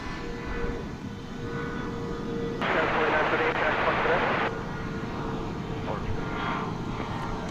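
A 23-year-old Asiana Boeing 747 cargo jet takes off directly overhead at DFW Airport, its broad engine roar swelling for a couple of seconds above a steady background rumble, with a voice talking through it.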